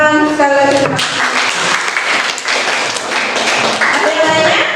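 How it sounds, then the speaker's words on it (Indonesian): A classroom of students claps in a burst of lively applause, close and fairly loud, while a teacher's voice speaks over the start and end of it. "Tepuk tangan sekali lagi."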